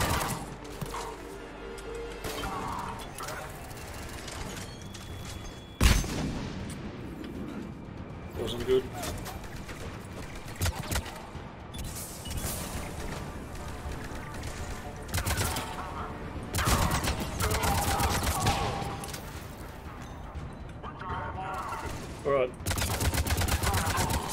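Sniper rifle gunfire in the game Mass Effect 3 on the Krogan homeworld Tuchanka: a sharp report early on, then repeated bursts of shots mixed with explosions and battle noise, with someone talking over much of it.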